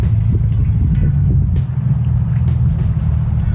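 A deep, loud engine rumble runs continuously, dominated by heavy low-end throb with occasional rattles, close by and without talk.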